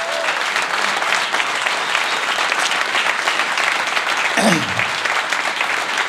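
Studio audience at a live comedy talk show gives a thunderous round of applause for the production team, dense continuous clapping from a large crowd with a brief whoop partway through.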